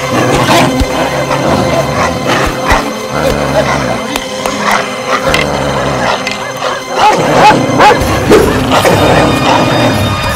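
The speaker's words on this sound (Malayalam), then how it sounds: "ഈ പട്ടിക്കൊക്കെ ഭ്രാന്ത് പിടിച്ചോ, നിർത്തടാ" Dogs bark in a Malayalam film scene, the barks mixed with crashes, thuds and raised voices throughout, loud and busy from start to finish.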